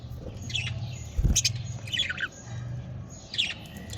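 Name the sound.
caged budgerigars squawking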